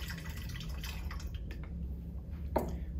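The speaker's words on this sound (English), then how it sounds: "You remove the seal and add the complete contents of the ICX Renew bottle one," A clear ICX Renew liquid is poured from its bottle, giving a continuous gurgling trickle with faint drips over a steady low hum.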